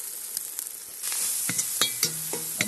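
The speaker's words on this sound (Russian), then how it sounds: "В казан отправляем лук, обжариваем, добавлю немного муки," Onion and a little flour hit hot fat in a kazan over a campfire, a strong crackling sizzle that jumps in loudness partway through, punctuated by sharp scraping strokes of a spoon, close and without talk.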